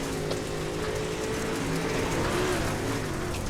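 Super late model race car at I-55 heard from the onboard camera, a continuous loud engine drone with a steady, slightly wavering pitch, mixed with heavy wind rush throughout.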